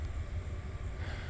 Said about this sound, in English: Sorry about the train, guys.